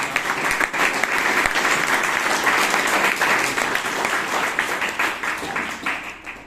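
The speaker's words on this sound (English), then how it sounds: "So with a big round of applause to the founder of the club." A roomful of people at a Toastmasters club meeting in Bangalore applauds steadily, dense clapping holding for several seconds before thinning slightly toward the end.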